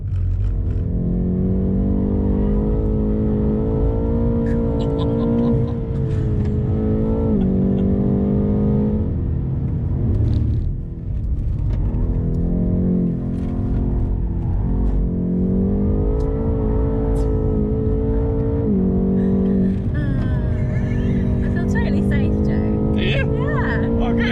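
A BMW M8 Competition driven hard on the circuit at Bedford Aerodrome, its engine loud and close, rising and falling in pitch through hard braking, slides and repeated full-throttle acceleration, with a voice talking over it.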